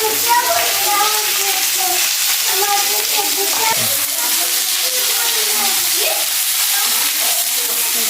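Chopped onions, slit green chillies and bay leaves sizzle and crackle in hot oil in a village kitchen. The frying is steady and close, and a voice is faintly audible underneath.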